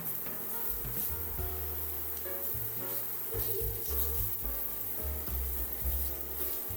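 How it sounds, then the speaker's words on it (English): Diced shallots sizzle in olive oil in a large skillet, a steady close frying hiss with low bubbling underneath and no voices. "heat up some olive oil in a large skillet. We're gonna add in some diced shallots, and we're gonna let that cook"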